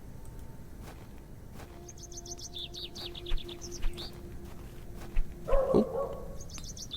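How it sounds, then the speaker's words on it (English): Bird chirping in a video game, a point-and-click horror adventure, with short high tweets scattered through the clip over a quiet ambient background and a few brief louder calls near the end. "there's a bird up there."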